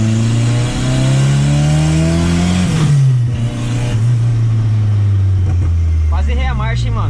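A turbocharged VW Gol accelerates hard, its engine pitch climbing, dropping at a gear change, then rising again, loud and close, with a turbo whistle and flutter near the end and talk inside the car.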